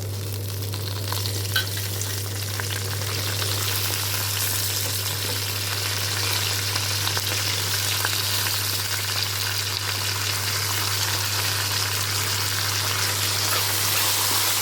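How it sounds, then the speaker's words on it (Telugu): Curry leaves fry in hot oil with a dense, even sizzle and faint crackles that stay steady throughout, over a low constant hum and with nothing else heard. "వేసి కొంచెంసేపు వేయించుకోవాలి. కరివేపాకు కూడా వేగనివ్వాలి."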